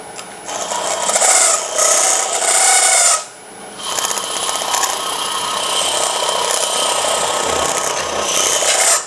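A small woodturning tool cuts wood on a spinning lathe, making a loud, close, continuous rasping scrape that breaks off briefly once and then resumes steadily.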